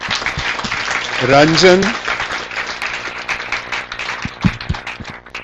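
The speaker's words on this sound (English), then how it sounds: "let us give Rabdeep a big round of applause" A conference audience at a national cyber security event applauds with a broad, sustained patter of hands while someone speaks over it.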